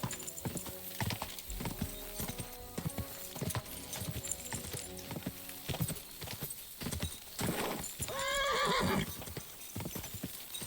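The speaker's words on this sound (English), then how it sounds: "Good job, horsey, good job." A horse gallops in Kingdom Come Deliverance II with steady, rhythmic hoofbeats up close, then lets out a loud neigh near the end.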